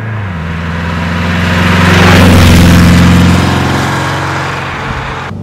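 A 1963 Porsche 356 C Cabriolet drives past with a steady engine drone that swells to a peak midway, then eases off, loud and close with no talk.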